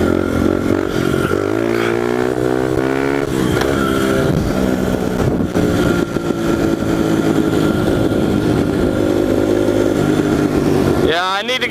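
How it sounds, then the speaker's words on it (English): A pit bike fitted with an FMF exhaust roars loudly and close throughout, its engine note rising and falling as it revs and shifts, with a sharp rev burst at the very end. "this thing has an FMF on it, so it's like obnoxiously loud for a pit bike"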